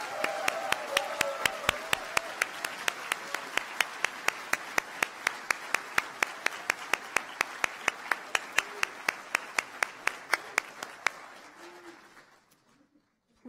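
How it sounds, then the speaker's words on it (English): Graduation audience applauding faculty at a civil and environmental engineering ceremony: steady crowd clapping for about eleven seconds with a few sharp standout claps, fading out near the end. "I would ask you to give a good round of applause for your faculty"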